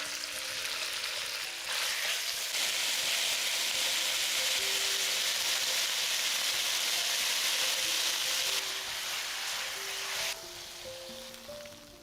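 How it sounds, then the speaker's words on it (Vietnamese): Beef stir-fried in a hot pan hisses in a loud, continuous sizzle that holds steady for several seconds, then eases a little toward the end. "Và tiếp tục xào thịt bò"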